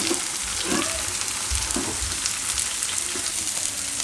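Flour roasts in hot oil for an okra gravy, giving a continuous close sizzle and fry with soft scraping stir sounds from time to time and no talk.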